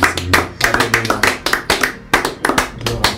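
A congregation at an international intercession prayer service clapping in acclamation, with sharp, loud, close claps in an uneven rhythmic run and brief gaps between bursts.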